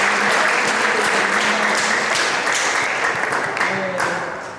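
A church audience at a choir event gives steady, dense applause that holds loud for several seconds and tapers slightly toward the end, with faint voices mixed in.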